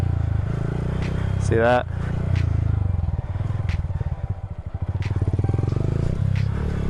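A Honda Grom motorcycle engine chugs in a rapid low pulsing beat as the throttle is let off during a wheelie, with a brief rising rev early on and a voice speaking briefly over it.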